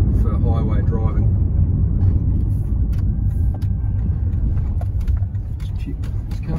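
A 2005 Toyota Corolla RunX being driven in overdrive gear, giving a steady low engine and road rumble inside the cabin with faint clicks, while people talk over it.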